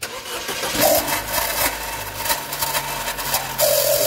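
Chevrolet Cruze with an Ecotec 1.4 turbo engine cranks and starts, then settles into a loud, close idle with a whistling, noisy turbo side.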